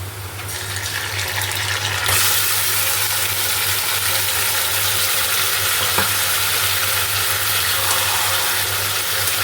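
Marinated yogurt chicken drops into a pan of lightly fried onions and erupts into a loud, continuous sizzle that holds steady and close, with a faint clink partway through.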